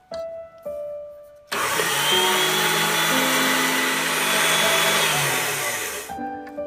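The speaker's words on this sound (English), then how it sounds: "I'm going to whip it on high." A stand mixer whips butter on high for shortbread cookies, a loud steady whirring drone with a rising pitch, starting after brief quiet clinks and cutting off near the end.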